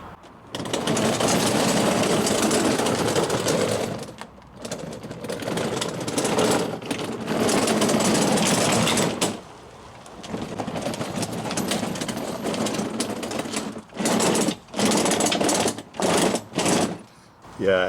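Electric motors of a BMW Power Wheels ride-on car whir and rattle loudly in bursts as it drives and stops, up close, with people talking over parts of it.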